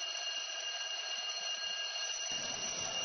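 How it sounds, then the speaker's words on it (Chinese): A building fire alarm sounds as a steady, continuous electronic tone, unbroken and loud throughout, with faint low rumble joining near the end. "楼内报警器响声大作"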